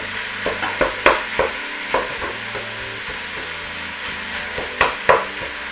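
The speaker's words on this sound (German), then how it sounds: "Und jetzt lasse ich das Hackfleisch anbraten." Minced meat and onions sizzle in a pan for bolognese while a spoon scrapes and stirs in quick irregular strokes, close and fairly loud, with no talking.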